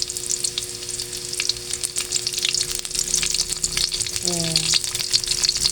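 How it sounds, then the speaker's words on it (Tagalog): Onions and pork frying in a pan for pinakbet, a steady crackling sizzle close by, with a brief spoken word and a short voice-like tone partway through. "Lagyan na natin yung ating sibuyas."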